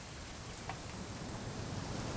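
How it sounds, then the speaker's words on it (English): Rain in the What Remains of Edith Finch video game: a steady, soft, even hiss of falling rain throughout, with no voices. "It's gonna rain the whole weekend, isn't it?"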